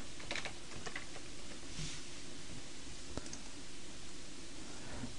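Steady clicking of fingers typing on a computer keyboard, a close, quiet run of keystrokes with a few sharper taps and no voices.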